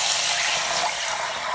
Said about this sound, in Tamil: ரசத்துக்கு தேவையான அளவுக்கு தண்ணி ஊற்றிக்கலாங்க.